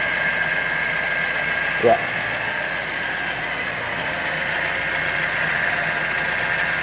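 A carburetor car engine, primed with fuel poured in after the carburetor ran dry, runs at a steady low idle throughout, with a brief louder thump near the start and a short spoken word over the drone.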